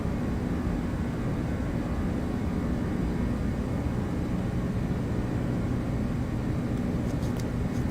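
Toliss Airbus A340 engines at climb thrust in X-Plane 12 after takeoff from San Antonio, a constant, loud, even roar holding steady with no breaks.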